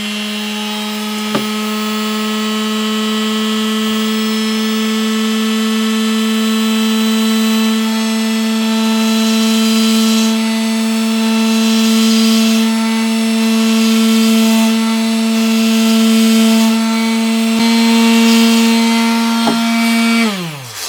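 A Black+Decker Mouse detail sander, model BDEMS600, sands a guitar finish with a loud, steady electric buzz and whine and small shifts in pitch under pressure, then winds down at the end.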